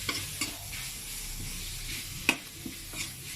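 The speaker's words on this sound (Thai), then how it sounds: "คนไปเรื่อยๆครับ" Pork frying with curry paste in a wok, stirred steadily with a constant sizzle and occasional scraping clinks, fairly quiet and close, with no talk.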